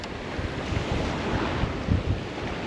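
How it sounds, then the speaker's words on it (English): Strong wind buffets the microphone at an estuary shore, a steady broadband roar with gusty surges and some lapping water beneath, loud and continuous with no voices. "It is so windy."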